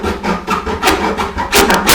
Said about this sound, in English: Okay, so I found the hacksaw. We're just going to put a little cut